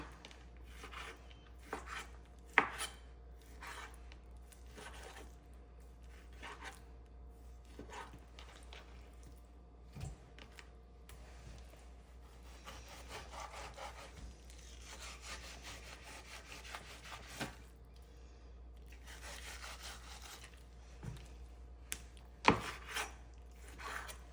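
A knife works through a salmon fillet along the bottom, leaving the skin uncut, with repeated close rasping strokes and soft scraping on a board, punctuated by a few sharper knocks and no voices.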